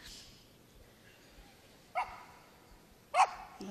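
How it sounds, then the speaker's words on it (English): A terrier gives two sharp barks a little over a second apart, fairly close, against a quiet indoor background. "Noisy. You're happy barking."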